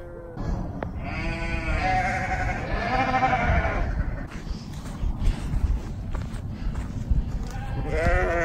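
Goats on a farm bleat repeatedly, calls overlapping near and far, as the herd runs toward hay with rustling footsteps and background noise.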